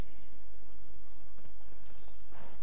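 A horse clip-clops along in The Witcher 3 after being called, hoofbeats falling in a steady trotting rhythm at moderate distance, with no talk over them.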